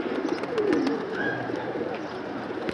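Pigeons coo outdoors in the midday sun, soft low throaty calls rising and falling close by over a steady background of birds, with no voices.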